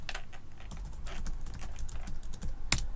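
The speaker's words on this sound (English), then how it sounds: "let's type in a URL" Quick bursts of clicking keystrokes on a computer keyboard as a URL is typed, close and fairly soft, with an irregular rhythm and one sharper clack near the end.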